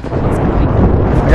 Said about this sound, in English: Yeah, mortar strike.